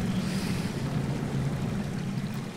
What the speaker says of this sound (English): Ooh, water.